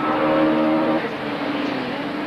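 1998 touring cars racing at Killarney circuit, with engines droning loud and steady as the cars pass, the pitch sliding as they go by.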